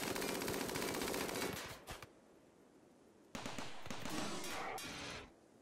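Rimworld base turret fires on mechanoids in dense, rapid bursts of gunfire, loud and continuous for about two seconds, then a pause and a second sustained volley before it cuts off.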